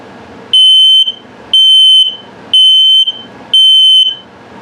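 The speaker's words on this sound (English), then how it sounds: "this is your carbon monoxide and LP gas detector," A carbon monoxide and LP gas detector in a 2021 Sunset Trail 291RK RV runs its self-test: four loud, piercing electronic beeps, evenly spaced about a second apart, each a sustained high tone with brief quiet gaps.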